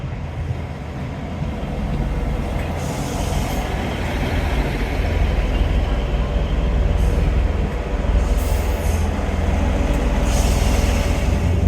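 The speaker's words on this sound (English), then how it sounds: "this is my train to take me home" A train at Dawlish, England rumbles steadily and loudly throughout, a deep continuous rolling drone with faint higher rail hiss rising and falling.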